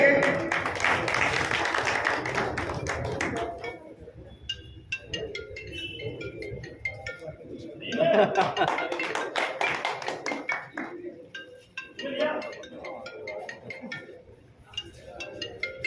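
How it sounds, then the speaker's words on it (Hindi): Applause at a party foundation-day function welcoming a district president: brisk clapping from a crowd that fades, then returns in shorter rounds among scattered talk and handling noise. "जोरदार तालियां आपके लिए"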